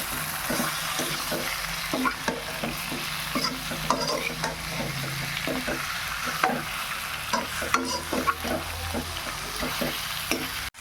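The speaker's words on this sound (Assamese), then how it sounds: "পিঁয়াজখিনি ভাজা হৈ গ'ল, ব্ৰাউন কালাৰ হৈ গ'ল। তাৰপিছত এয়া চিকেন দি দিলোঁ।" Chicken pieces fry with browned onions in a pan for a local chicken curry, giving a steady sizzle broken by repeated scraping and stirring strokes of a spoon against the pan.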